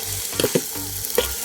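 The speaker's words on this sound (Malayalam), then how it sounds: "നമുക്ക് അതിനകത്തോട്ടിനി നമ്മുടെ ഈ കാന്താരിമുളക് മാട്ടി വെച്ചത് ഇട്ട് കൊടുക്കാം. നമുക്ക് ഒന്ന് ഇളക്കി" A spoon scrapes and stirs through birds eye chilli pickle with carrot and papaya in a hot pan, a few distinct clacks over a continuous oily sizzle, close up.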